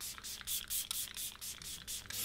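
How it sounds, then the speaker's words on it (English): A Catrice dewy glow fixing spray mists onto a face to set makeup in a quiet run of short, soft hissing spritzes in quick rhythm, close and faint. "this is the Illuminating Prime and Fine Dewy Glow Fixing Spray by Catrice to set my"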